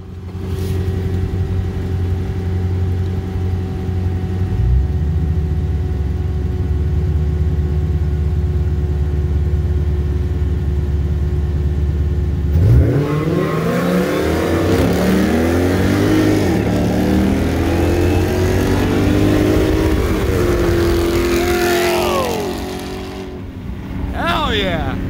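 A 2020 Dodge Charger Hellcat and a 2012 Dodge Charger SRT8 Super Bee on slick tires, heard first as a loud steady engine drone from inside a car, then as hard acceleration with rising engine tones, while people talk.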